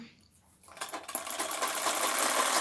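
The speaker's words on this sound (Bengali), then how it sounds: "সেইখানে আমি সেলাই করে নিচ্ছি কাপড়টাকে" A sewing machine stitches fabric for a kantha cover. After a quiet start it runs up into a fast, steady mechanical whir and rattle that builds in loudness and holds close and continuous to the end.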